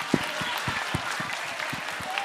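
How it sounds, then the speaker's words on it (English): Scattered claps from a small group of students in a secondary school classroom, sounding as separate sharp hand-claps over a murmur of voices in the room. "Let's give CL a clap of support."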